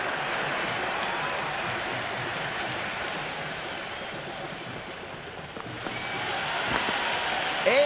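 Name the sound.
cricket stadium crowd cheering and applauding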